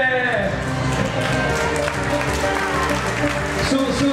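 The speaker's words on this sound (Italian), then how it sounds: "Su, su, su, un applauso." An audience at an outdoor Italian modelling pageant applauds a winner, continuous dense clapping from a crowd, loud and sustained, with music and a voice running underneath.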